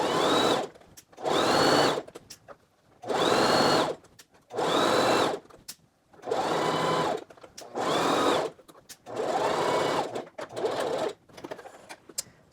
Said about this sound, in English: And then simply sew the length of the seam.